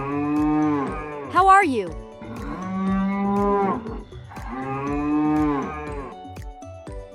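Several cows mooing on a farm, long drawn-out bellowing calls one after another, loud and close, with a short spoken greeting heard between the moos.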